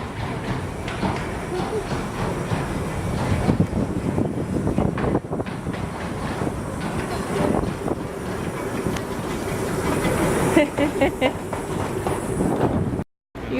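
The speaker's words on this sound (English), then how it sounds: "the front of the train is just driving up to the other end to pull this one back." A tourist train rolls along rails in the Lake District, a steady rumble with clicking wheel noise and some wind buffeting across the whole stretch, cutting out briefly near the end.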